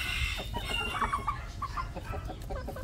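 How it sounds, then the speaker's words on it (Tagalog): Rhode Island hen clucking in a backyard coop, a busy run of short, close clucks with a steady low rumble of wind or rain in the background. "Itong inahin natin,"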